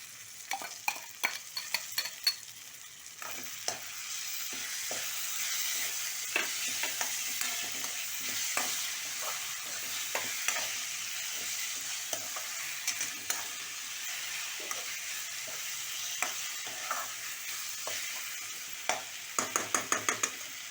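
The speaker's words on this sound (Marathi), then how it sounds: "तर आता मी ह्याच्यामध्ये टोमॅटोची पेस्ट टाकून घेत आहे." Tomato paste going into onions fried golden for methi matar malai: a steady close sizzle with repeated scraping stirs and light utensil clinks against the pan, busier toward the end.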